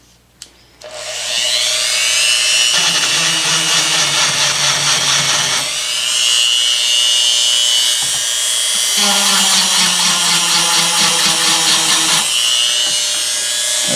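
A power drill spins at low speed, with a small brush chucked in, during cleaning of a Gottlieb Airport pinball machine. A continuous high whir runs for over ten seconds, dipping briefly in pitch midway.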